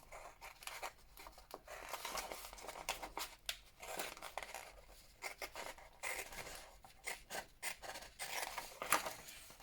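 Backing paper being trimmed for a craft project, quiet, close rasping and snipping cuts coming in short bursts with brief pauses between.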